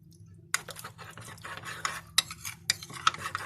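A spoon stirs starch dissolved in a little water inside a pot, scraping and clinking in quick irregular strokes against the metal sides, close and clear over a low steady hum.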